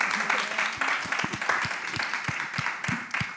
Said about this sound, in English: a round of applause for sharing